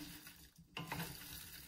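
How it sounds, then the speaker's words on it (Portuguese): Pork and potatoes are stirred in a frying pan for a spicy Portuguese pork dish, a soft sizzle under faint scraping and one brief clatter of the utensil midway, with nobody speaking. "Vou envolver tudo muito bem"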